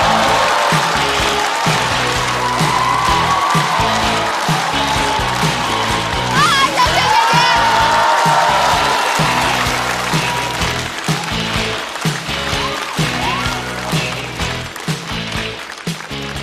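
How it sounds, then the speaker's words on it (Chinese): A stand-up comedy audience applauds to welcome a performer, a loud sustained wash of clapping with cheering and background music running underneath for the full stretch. "掌声欢迎小雪。"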